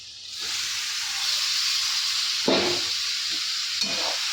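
Macaroni sizzles steadily in a hot pan while being stirred, a continuous hiss with a couple of louder scraping bursts from the spoon; no talking.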